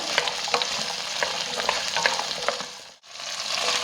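Onions sautéing in a pan for Madurai-style mutton uppukari, a steady close sizzle with scattered stirring scrapes and clicks, briefly dropping out near the end before resuming.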